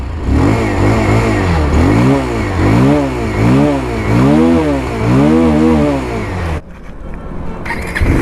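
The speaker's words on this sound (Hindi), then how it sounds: "एक बार आपको एग्जॉस्ट नोट सुनाते हैं भाई। तो भाई लंबा एग्जॉस्ट नोट है भाई, सुनो।" A Bajaj Pulsar 220F motorcycle idles and revs repeatedly, its exhaust note rising and falling in steady rhythmic swells close to the listener, then cutting off abruptly near the end.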